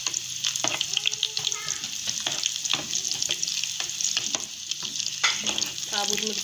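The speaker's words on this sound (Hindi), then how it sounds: "साबुत मिर्चें फ्राई हो चुकी हैं" Whole dried red chillies frying in hot oil with browned onion for a moong-masoor lentil tempering: a continuous bright sizzle broken by repeated spatula scrapes and clicks.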